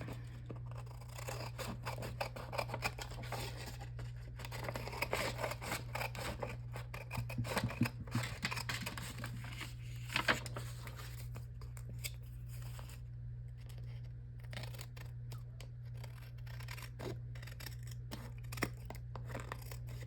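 Paper being trimmed for a junk journal, with steady close snipping and rasping cuts over a low constant hum throughout.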